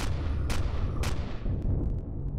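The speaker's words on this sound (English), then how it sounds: "it's automatic sentry gun shooting at me" An automatic sentry gun in the game Empyrion fires a few heavy, booming shots in quick succession, loud and close, each trailing off into a rumbling echo.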